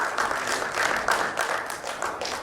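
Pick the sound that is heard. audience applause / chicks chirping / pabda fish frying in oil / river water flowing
audience applause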